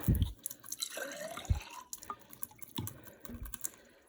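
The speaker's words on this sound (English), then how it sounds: "if I put some water in this one" Ordinary water poured into a measuring container for reading the meniscus, giving a close, light splashing trickle with a few drips and small knocks, no voices.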